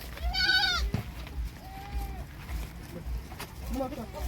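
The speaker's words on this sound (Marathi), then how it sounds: "हे मुला बोकड कुठे गेलं रे" A billy goat bleats loudly nearby with a wavering, drawn-out call, followed by softer bleats from animals on an outdoor farm with buffalo and cattle, while someone talks over the scene and a steady low thumping runs underneath.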